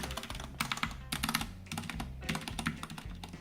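Mechanical keyboard with tape-modded stabilizers, typed on in quick bursts of close, muted clacks with short pauses between groups of keystrokes.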